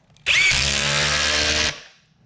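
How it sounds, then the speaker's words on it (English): A weak power drill whirs steadily at full speed for over a second, loud and close, then winds down and stops. "So this is a pretty weak drill. I'm gonna show you guys right now."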